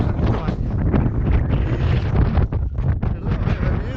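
Strong wind roars in a steady, dense rumble across the microphone on a rocky mountain ridge near the summit of Moel Siabod, with gusts buffeting up close and no clear voice over it.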